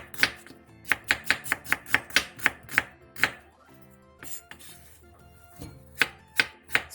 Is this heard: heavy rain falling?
no